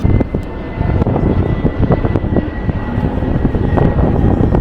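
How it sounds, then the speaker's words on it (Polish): An airplane flies overhead, heard from a 32nd-floor spot in Kota Kinabalu, Sabah, Malaysia, as a loud, steady roaring engine drone mixed with wind gusts across the microphone. "Samolot."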